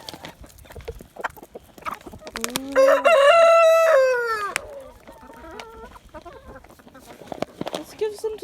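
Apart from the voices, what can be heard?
chickens clucking while eating soldier fly larvae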